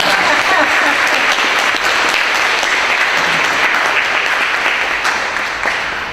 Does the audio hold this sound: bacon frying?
no